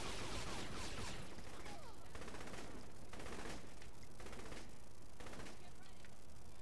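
Rapid sniper rifle gunfire in Saints Row: The Third, a loud, sustained burst of shots packed closely together, with a few brief breaks between volleys.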